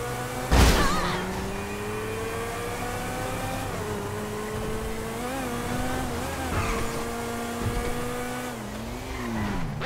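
Cars racing in Grand Theft Auto V: a loud, steady engine drone rising and falling in pitch with revving and shifts, a sharp impact near the start, continuous throughout with no talk.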